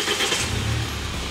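A Mahindra double-cabin 4x4 diesel pickup from India starts up, giving a short bright crank that catches into a low engine rumble, close by, with no speech.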